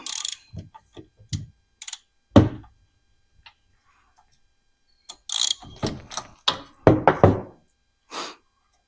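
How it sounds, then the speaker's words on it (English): A ratchet wrench clicks in short bursts while loosening the spark plug from a long-unused power edger/trencher engine, with sharp metallic knocks and pauses between strokes, close and fairly loud. "Let's get this spark plug out and look at it."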